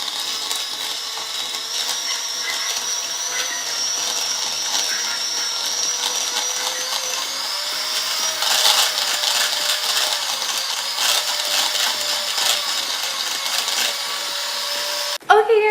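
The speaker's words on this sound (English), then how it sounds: "you will just mix it with your hand mixer until it has a fluffy" A hand mixer whips lukewarm butter for a buttercream frosting on a funfetti cake. Its steady, close, high-pitched whine carries on continuously and rises briefly in pitch partway through, then cuts off abruptly near the end.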